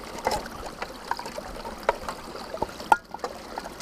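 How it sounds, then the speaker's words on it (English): A small woodland stream trickles steadily with soft, irregular drips and gurgles, and a few brighter plinks stand out over the continuous watery wash. "Nice little water feature actually."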